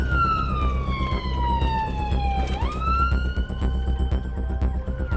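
Ambulance siren on blue lights, a loud wailing tone sweeping down then jumping back up over engine rumble while the vehicle drives close by.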